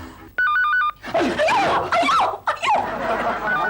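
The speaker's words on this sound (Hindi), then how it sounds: "फोन बजा।" A short electronic telephone ring trills for about half a second, then loud, warbling, gobble-like cries take over.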